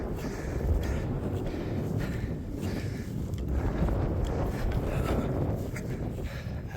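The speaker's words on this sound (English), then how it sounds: "Might feel the wind a bit more here now" Steady wind gusts buffet the microphone on an open Yorkshire moorland summit, a continuous low rumble that swells and eases, with no voices.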